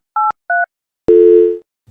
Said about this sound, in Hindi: मैं फोन मिलाऊं